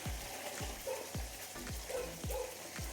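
Onions fry in a pan while tomato pickle is being made, a soft sizzle broken by a few dull regular knocks, faint and without speech.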